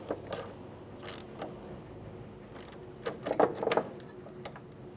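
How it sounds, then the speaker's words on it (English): A nut is snugged down with a ratchet on the brake line bracket of a 2003-2007 Infiniti G35 front strut, giving faint, close mechanical clicks and metal ticks that cluster in a short burst. "Put the nut on and then snug it down."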